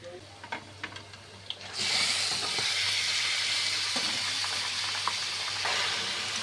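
Mutton pieces dropped into a pan of onions already fried pink, the sizzle jumping up suddenly after a few quiet clinks and then holding as a loud, steady, close frying hiss.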